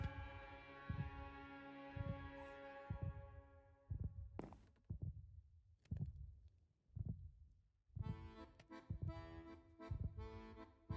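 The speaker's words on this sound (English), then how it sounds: "There's a heartbeat." A heartbeat sound effect in a video game about expanding an underwater fish farm, with a slow repeating low thump-thump rhythm over a steady hum and layered tonal music, fairly quiet and alone without talk.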